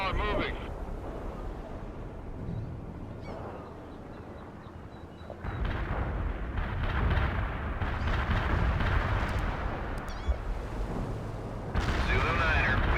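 An artillery barrage fires for effect in the World In Conflict game: continuous heavy rumbling detonations and bursts roll on loudly, building in intensity, with voices mixed in among the blasts.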